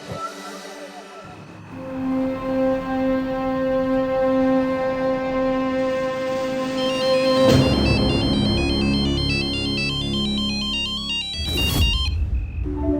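A phone rings with a bright electronic ringtone melody, loud and close, repeating its tune for several seconds with a brief burst of noise midway.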